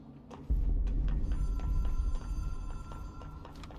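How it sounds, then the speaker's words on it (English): A telephone rings inside the Control video game, with a repeated metallic trill and tonal pulses over a low, heavy rumbling background hum. "It is a phone."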